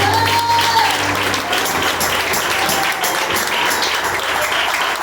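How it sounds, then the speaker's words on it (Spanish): Sustained, loud applause from a church congregation during a sermon, steady clapping throughout with a brief musical tone at the start. "Denle ese aplauso al Señor"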